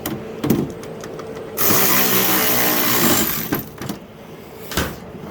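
Power tool screwing a part down on a Toro Power Clear 721 snowblower carburetor, one steady whir of about a second and a half between short clicks and handling knocks, close by with no talking.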